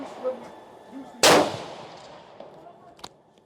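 A Steyr Scout rifle fires one loud, sharp shot with a ringing tail, followed by a fainter, shorter crack near the end, outdoors at close range.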